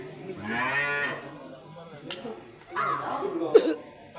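A buffalo moos in a long, drawn-out low call near the start, followed later by a second rougher call, with some background voices and a cough-like sound.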